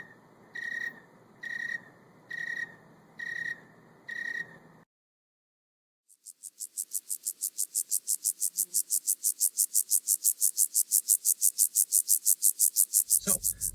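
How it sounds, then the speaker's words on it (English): Insect chirping: first a pause-separated series of five pulsed cricket chirps, then a brief silence and a fast, high, continuous trilling chirp, ending with a short thump. "crickets chirp. They make that the more high-pitched noise."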